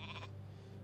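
A sheep in the video game Werewolf Transylvania gives one short, clear bleat at the start, fading into a steady low game hum with no speech.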